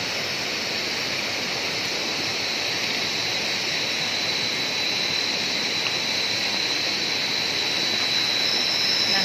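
The Waitasoi river flows at night as a constant, even rush of water that holds steady for several seconds with no voices over it.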